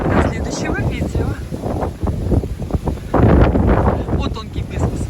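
Strong wind on Miyakojima island in Okinawa buffets the microphone in a loud, steady roar that swells into heavier gusts midway and keeps blowing to the end.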